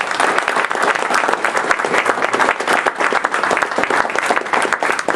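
Audience applause at a gathering fills the whole stretch, dense and steady with many hands clapping at once, loud and sustained with no voices over it.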